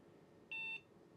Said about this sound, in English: There's only one beep this time